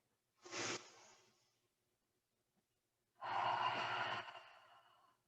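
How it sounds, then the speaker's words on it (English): Deep breathing during a yoga session, a short sharp inhale followed by a long, fuller exhale a few seconds later, close and quiet with silence between. "Take one more breath."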